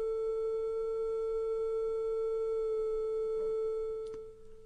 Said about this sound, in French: Lorsque la fréquence augmente, la boule moyenne entre en résonance, puis la plus petite.